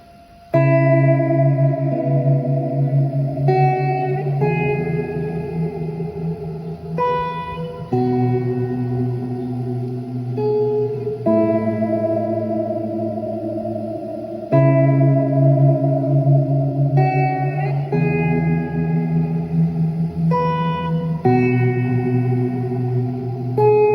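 Chords on a guitar played through an M-Wave Mini Universe reverb pedal set to hall, changing every few seconds, each blooming into a wide, washy tail that overlaps the next.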